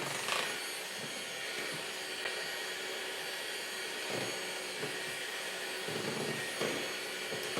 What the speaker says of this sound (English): I'm still mixing on low